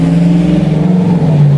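A neighbor's car drives past close by, its engine a loud, steady low hum with a faint rumble that holds throughout the moment.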